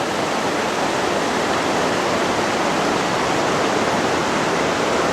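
Floodwater rushes through a town street during a great flood in Newmarket, New Hampshire, a loud, steady broadband roar of churning water that carries on without a break, with no voices.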